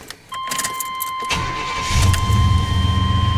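A chime dings, then a 1993 Chevrolet Silverado pickup truck with a hard-starting problem cranks briefly and the engine catches, settling into a rumbling idle up close.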